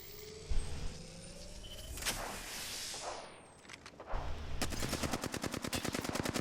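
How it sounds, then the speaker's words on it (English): Gunfire in the Apex Legends video game: a burst of loud shots early on, then a fast, steady rattle of rapid automatic fire in the last seconds, close and unbroken, with no talk. "I am taking fire"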